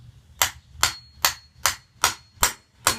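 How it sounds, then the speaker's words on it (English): Seven sharp metallic hammer strikes, evenly spaced and close, drive a needle through tin to punch holes, with a low hum underneath. "Hammer it"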